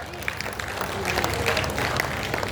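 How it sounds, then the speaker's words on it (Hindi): Audience applause at a ceremony of the Power Grid Corporation of India in Lakhisarai, Bihar: steady, dense clapping from a crowd, sustained throughout at even loudness, with a faint voice mixed in. "और आपकी तालियों की अपेक्षा है, जोरदार तालियां बजती रहनी चाहिए।"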